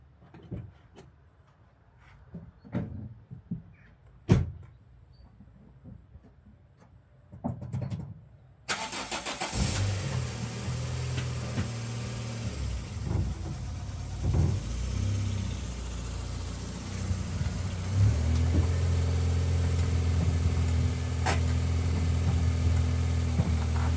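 A Toyota Starlet Solida engine cranks and starts after a few faint knocks, then holds a steady, fairly loud idle that swells as the car rolls closer.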